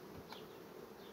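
A dense, steady buzzing of many honey bees fills the air, close and continuous.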